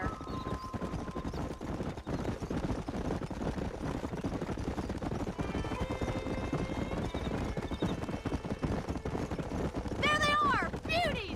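Horses gallop with steady, dense clip-clop hoofbeats through the whole stretch in the Western game Red Dead Redemption, with a tonal musical line entering partway through and a loud horse whinny near the end.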